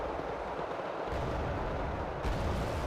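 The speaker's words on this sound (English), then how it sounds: "Mario GR7 doing a strafing run and just roping out everything down here." A GR7 jet strafing ground targets in the Wargame Red Dragon battle game, a continuous roaring barrage of cannon fire and rumbling explosions that swells sharply twice, dense and loud throughout.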